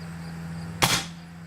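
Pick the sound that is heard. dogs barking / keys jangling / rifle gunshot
rifle gunshot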